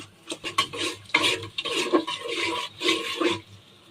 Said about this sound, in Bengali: পেঁয়াজ, এটা এখন একটু ভেজে নিচ্ছি